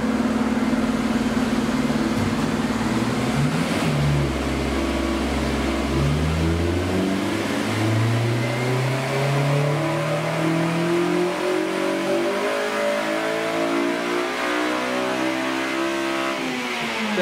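A car engine revs up steadily under load on a dynamometer during a full power pull, its pitch climbing in a long rising sweep over about seventeen seconds, loud and continuous with no talking.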